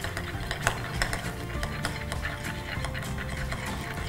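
Pesto sauce being stirred together with olive oil in a small bowl, a steady wet scraping and swirling with soft repeated clicks of the utensil, close and moderately loud with no talking.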